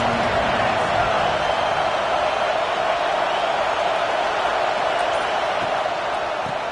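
Dense stadium crowd noise at a Florida vs Auburn college football game, a steady loud roar filling the whole stretch without letting up, with faint commentary-like voices mixed in.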